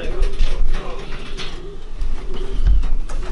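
Pigeons coo steadily in a breeding loft, soft throaty calls repeating over a constant background hum, with a low thump near the end and no talk.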